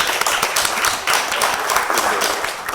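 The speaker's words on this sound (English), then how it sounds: "I think we should give Steve a round of applause for the work" Applause rises at a recycling economy panel in Michigan, a close, busy patter of many hands clapping at an even level throughout.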